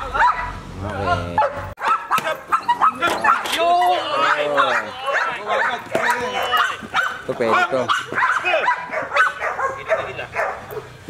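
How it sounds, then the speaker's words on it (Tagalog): Protection dogs in training bark, yip and whimper excitedly in rapid bursts nearby, while a person gives spoken commands over them. "Gigil na gigil yung mga aso namin."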